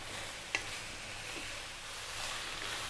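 Cabbage and ground chicken frying in a pan with garlic, ginger and oyster sauce, a steady soft sizzle under a continuous stir and one sharp utensil scrape near the start.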